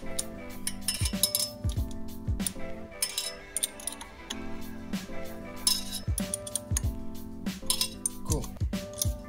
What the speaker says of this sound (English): So you tighten the three bolts again.